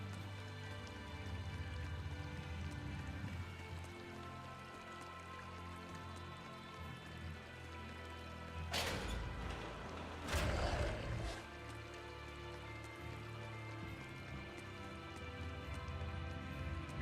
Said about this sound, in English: let it rain on the bridge again